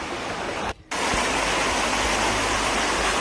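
Steady, loud rush of water runs beside a road and scours away the soil at its edge, with a brief drop-out near the start before the continuous flow returns.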